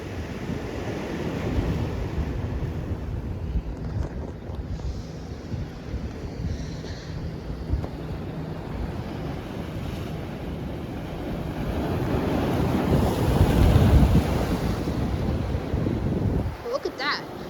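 Ocean surf at high tide at Avon-by-the-Sea rolls in as a continuous, loud wash with wind buffeting the microphone, swelling toward a stronger break near the end.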